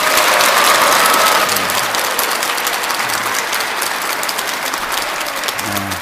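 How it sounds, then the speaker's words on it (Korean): Sustained applause from a church lecture audience after a song, loud and dense at first, then thinning slightly but continuing steadily throughout. "노래 부른 다음에 박수 소리가 더 커가지고"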